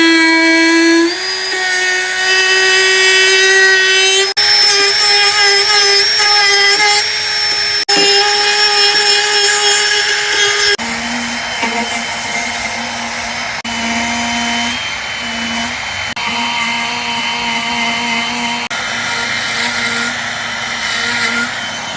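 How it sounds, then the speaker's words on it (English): Power sander grinding an ABS plastic charge tube part for a Saturn SkyClip, a loud, continuous high-pitched whine that shifts pitch partway through as the tool loads and eases, with no talk over it. "I'm going to sand that part down a little bit"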